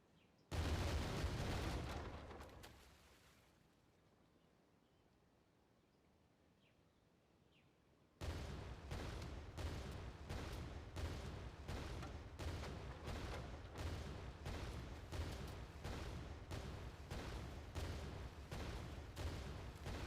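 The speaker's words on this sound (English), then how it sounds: "It will fire off broadsides at the player with a chance to change attack type to a rolling broadside after a certain number of attacks." Sailing-ship cannons in Brigport Dagger fire a booming opening blast that fades to quiet, then a long rolling broadside of rapid, evenly spaced heavy shots continuing steadily to the end.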